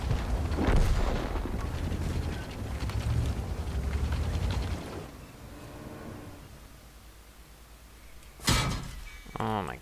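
Tank cannon fire in World of Tanks: a heavy broadband boom bursts out near the end of a noisy, rumbling battle scene, with an earlier blast at the start and muffled voices in the mix.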